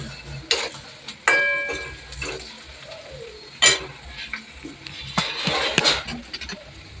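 Onions fry in a pan with a little salt, giving a low sizzle broken by stirring scrapes and clinks of a utensil against the pan, several sharp knocks scattered throughout.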